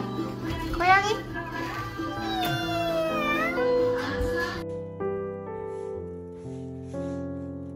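Cat meowing in a children's Sunday worship video, with a voice that may be a child imitating the meows among animal sounds. Several drawn-out, rising and falling meows are heard close and fairly loud, followed by soft piano-like tones.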